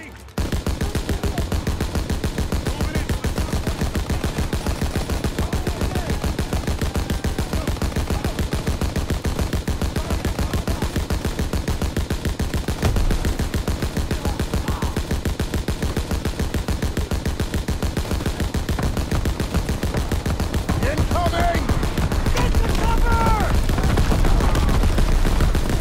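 Sustained gunfire from rifles and machine guns in the Call of Duty WWII video game, a dense, loud, continuous battle barrage with rapid bursts and scattered shots, with faint shouting underneath.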